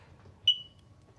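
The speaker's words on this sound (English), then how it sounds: "And you're getting an alarm there." A single short, shrill electronic beep from a smoke alarm's test button, sharp and piercing, ringing out briefly against near silence.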